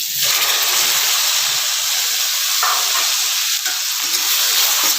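Onions fry in a pan for cauliflower kurma with a constant loud hissing sizzle, close up and steady, with faint stirring scrapes underneath and nobody speaking.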